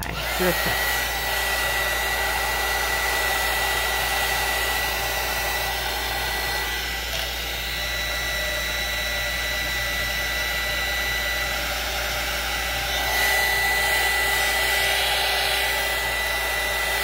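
A heat tool blows a steady, loud whir while ink is dried on a craft surface, running almost unbroken for the whole stretch with a slight rise in pitch near the end and no voices.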